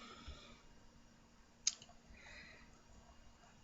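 A single sharp computer mouse click on a library catalog webpage, brief and fairly close against a quiet room hiss.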